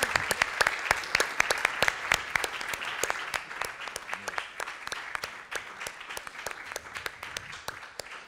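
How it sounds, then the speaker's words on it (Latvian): An audience at a business event on Scandinavian trade and export claps in steady, dense applause throughout, moderately loud and unbroken, with no talk over it. "Un tāpēc es domāju ar aplausiem īpaši paldies Kristīnai."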